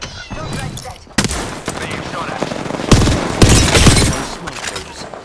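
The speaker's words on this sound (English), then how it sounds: "They're shooting at me." Enemy gunfire in a battle royale video game, rapid automatic bursts and sharp shots crackling loudly in clusters, with heavier volleys near the end.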